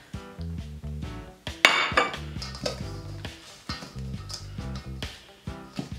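Yeast, baking powder, salt and sugar being added to a saltfish fritter mixture in a kitchen, heard as a few close clinks and taps of spoon against bowl over light background music.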